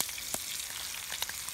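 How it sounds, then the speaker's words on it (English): Fish sizzles steadily in a pan over an outdoor campfire, a close crackling hiss with a few sharper pops. "I'm pan frying my fish"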